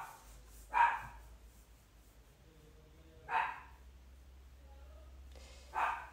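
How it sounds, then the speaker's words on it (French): A dog barks three times, single sharp barks spaced a few seconds apart, moderately distant over a low background hum. "Je suis désolée pour le chien."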